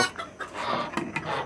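Silver and golden Sebright hens cluck in short overlapping bursts as they are shut in for the night, close and fairly loud, with no talk.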